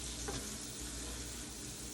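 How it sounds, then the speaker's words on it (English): Small liver pieces frying lightly in a pan for smothered liver and onions, giving a soft, steady sizzle that stays low and even throughout with no talking. "I'm still just frying up pieces very lightly"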